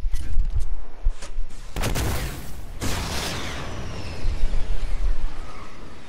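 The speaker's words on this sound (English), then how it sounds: "They're shooting right towards you." Video game gunfire rings out in bursts of loud close shots, with heavier blasts around two and three seconds, amid continuous game noise with no voices.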